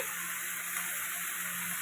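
Vegetables frying in a pan for a Bengali biulir dal with flat beans and radish, making a faint, even, continuous sizzle.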